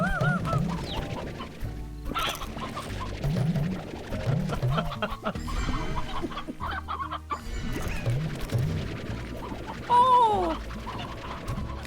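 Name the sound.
chickens clucking in the video game Slime Rancher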